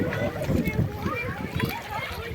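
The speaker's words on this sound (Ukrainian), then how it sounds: "О, маленькі діти купаються." Children splashing and swimming in a quarry lake, light irregular water splashes mixed with kids' voices and chatter close by, fairly faint and continuous.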